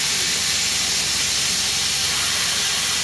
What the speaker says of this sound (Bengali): তাই সিটি মারছে, এরকম 2-3টে সিটি মারার পর আমি প্রেশারটা খুলে এই বাদবাকি এগুলো সব দিয়ে দেবো